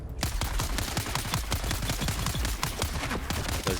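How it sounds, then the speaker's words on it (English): Weapons firing in Dune: Awakening, a rapid, unbroken stream of close, loud shots over the whole stretch, with no talk. "weapons firing."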